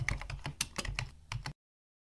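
Quick keyboard typing in a children's English word typing game, about eight rapid sharp key taps in an uneven run before sudden silence, with no talk.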